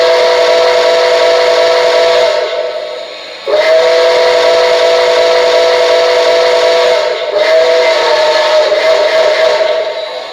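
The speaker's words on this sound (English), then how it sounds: "That is an amazing whistle. It sounds like the real thing." An MTH Berkshire #759 model train steam whistle sounds three long, loud, breathy blasts in a row, with a brief dip between each.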